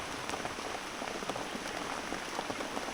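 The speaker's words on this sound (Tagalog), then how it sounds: "ang lakas ng ulan" Heavy rain hammers steadily on the roof of an abandoned house on a mountaintop, a dense, unbroken roar of drops that holds an even level throughout, with no voices.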